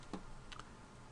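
A few faint, isolated clicks of computer keyboard keys being tapped, two or three quiet strikes in about a second, heard alone.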